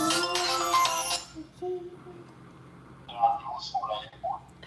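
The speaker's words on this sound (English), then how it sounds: "Got another phone call." A phone rings with an incoming call, a bright electronic ringtone pattern for about a second, followed by quieter chirping tones while a person talks nearby.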